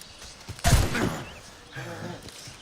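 A loud cannon blast in Assassin's Creed Rogue, the naval action game, booms out at once and then rumbles away, with game sounds carrying on quietly afterward.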